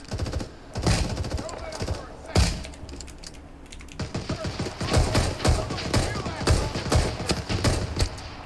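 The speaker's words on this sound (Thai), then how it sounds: "จะเสียงปืนของเพื่อนของเรา" Rapid bursts of gunfire in the video game Rising Storm 2: Vietnam crackle repeatedly, mixed with clicking keys and a speaking voice throughout.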